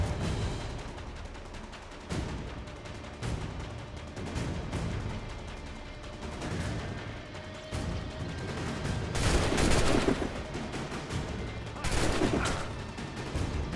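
In the game Assassin's Creed III, musket gunfire and booming shots crack repeatedly over a dense, noisy battle din, with several louder volleys standing out near the end.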